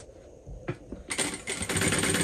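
A sewing machine bastes along the bottom of a handbag connector, starting after a couple of soft clicks and then running in a steady, close, rapid stitching burst to the end.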